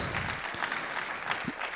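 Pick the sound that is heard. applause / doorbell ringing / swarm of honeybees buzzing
applause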